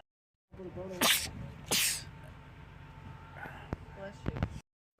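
A man sneezes twice in quick succession, two loud explosive bursts close to the listener, followed by quieter breathy sounds and a short final sneeze-like outburst.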